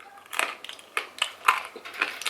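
Dehydrated chicken of the woods mushroom jerky crunches between the teeth in a series of sharp, close, brittle crackles, about five distinct bites and chews spaced roughly half a second apart, with no talking.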